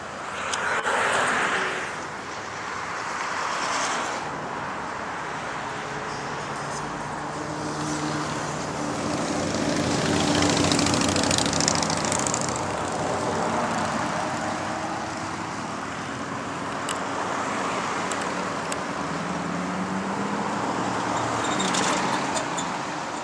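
Street traffic with diesel vehicles on 28th Street South East during the Metro Cruise car show, a continuous roar of passing engines that swells and fades, with a loud surge near the middle.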